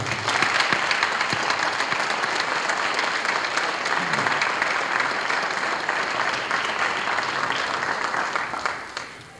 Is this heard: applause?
yes